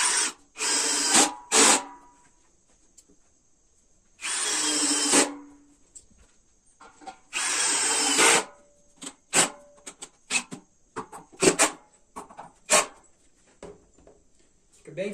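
A power drill drives Phillips wood screws through a metal piece into a wooden industrial-style table, three loud sustained whirring bursts followed by short clicks and taps, close up.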